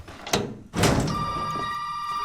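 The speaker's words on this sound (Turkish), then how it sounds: "Aha telefon çalıyor lan." A telephone rings in the Resident Evil 7 video game, a bright sustained ring that starts just after a couple of heavy thunks and continues steadily, fairly loud.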